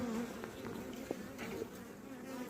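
Honeybees buzz steadily and close around open hive frames as a caged queen is released onto them, a dense insect drone with small fluctuations and no talking.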